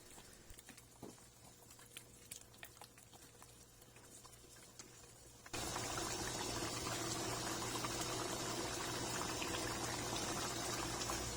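Tomato paste and tomato sauce go into simmering meat in a pot: quiet, sparse bubbling, then an abrupt switch to a loud, steady, broadband sizzle and pour that holds to the end.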